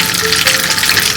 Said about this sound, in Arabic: كده الزيت سخن معانا مع الزبده